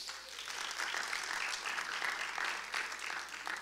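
Members of a church group in an audience at a pro-life event clap together, a dense, steady patter of many hands heard from some distance, fairly faint and continuous throughout.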